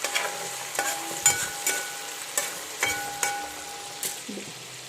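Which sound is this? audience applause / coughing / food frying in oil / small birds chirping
food frying in oil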